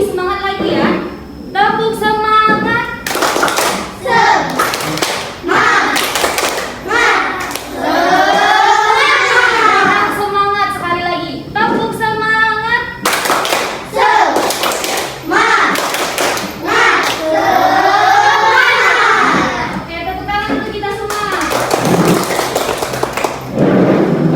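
A class of children performs a rhythmic spirit clap, bursts of patterned hand claps and thumps alternating with loud group chanting, close and energetic, with a teacher's voice leading between rounds.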